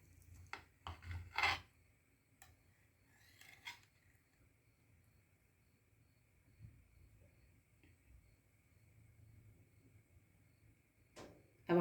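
A knife cutting into a hot, freshly baked semolina harsha fresh from the oven, sparse soft scrapes and taps against the tray spread over several quiet seconds, with a louder knock at the end.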